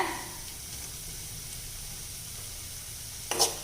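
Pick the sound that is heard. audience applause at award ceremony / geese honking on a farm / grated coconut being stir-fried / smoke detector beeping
grated coconut being stir-fried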